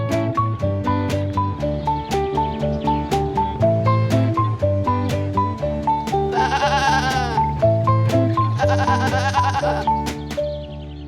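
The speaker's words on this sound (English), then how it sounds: "Let's go meet the gifted goats at the farm" Goats at a farm sanctuary in the Kent countryside bleat in a busy, overlapping chorus over a steady layered background, with a few sharper, brighter calls rising out of the mix near the end.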